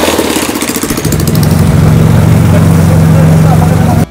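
A trawler boat engine that recently had a minor mechanical fault runs close and loud with a steady, throbbing drone, then cuts off abruptly at the end.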